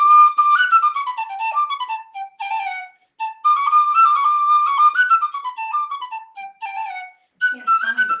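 A flute plays a flowing melodic line of connected notes with brief pauses between phrases, clear and close with no talk over it.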